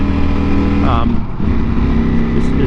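A 2020 Ducati Panigale V4 V4 engine roars steadily from an onboard position on a track, loud and continuous with a brief pitch sweep as it shifts, while a rider talks over it.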